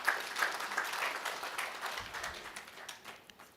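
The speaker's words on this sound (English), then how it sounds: "Another round of applause." Conference audience at an energy week event applauding steadily, a dense wash of many hands clapping at moderate distance with no speech over it, holding for several seconds.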